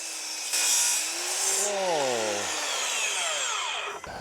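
A saw cuts through wood and embedded screws on a pergola-style build, with a steady grinding rasp that swells loud early, then a wavering, pitch-sliding whine as the blade bites metal before easing off.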